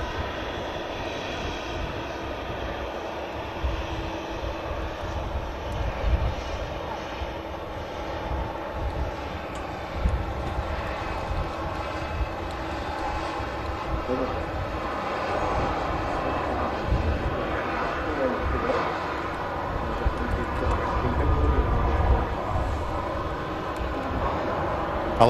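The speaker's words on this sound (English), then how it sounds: "This arriving EasyJet is in from Palma." An arriving EasyJet airliner in from Palma at Manchester Airport, a steady broad engine roar that holds for the full stretch, moderately loud and unbroken, with no voices.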